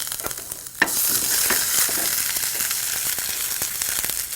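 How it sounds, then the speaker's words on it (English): Ginger sizzling and crackling in hot ghee, a steady close frying hiss with occasional sharp pops and stirring sounds. "When you fry the ginger like this"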